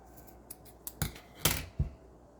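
Fabric scissors snip off excess material after stitching a child's sweater, giving three or four short crisp cuts close by in a quiet room.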